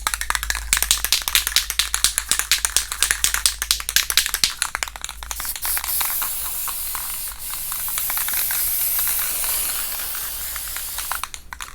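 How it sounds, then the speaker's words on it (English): Guide coat sprayed from an aerosol can onto primed bodywork of a Box Chevy Caprice, first in rapid bursts of short hissing sprays, then a long steady mist; close and loud, with no talking. "We're gonna spray some guide coat on there"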